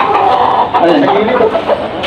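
Chickens cluck close by in choppy, repeated bursts, with people talking over them.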